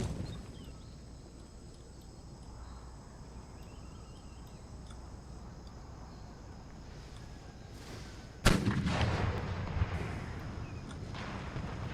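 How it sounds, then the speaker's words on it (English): A cannon fires in a battle in the Empire: Total War video game, a single loud boom about eight seconds in that breaks over steady low battlefield rumble and is followed by a lingering din. "That's more like it from that cannon on the left."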